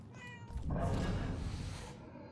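A cat in the video game Murdered: Soul Suspect meows in a long, drawn-out whine over a steady background hum, preceded by a faint short mew.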